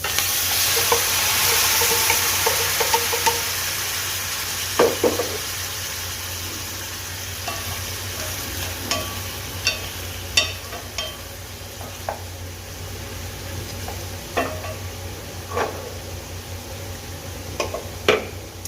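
Chicken fries in a pan for chicken kaldereta with a steady loud sizzle, punctuated by scattered sharp clicks and scrapes of stirring.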